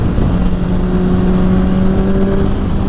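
Modified Honda CBR1000RR sportbike with Bazzaz unit and one-tooth-smaller front sprocket rolling on in sixth gear: a loud, steady engine drone with a rising tone mixed with heavy wind rush, continuous throughout.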